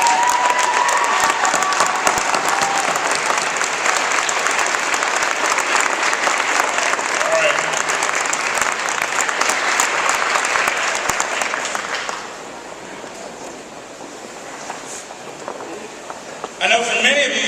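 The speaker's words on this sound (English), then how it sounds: "I'm going to ask all the graduates to stand and face the audience and applaud their family and friends" College graduates at a Penn State Abington commencement applaud their family and friends, a loud, dense ovation from a large crowd that rolls on for about twelve seconds, then fades into murmuring and a brief final burst.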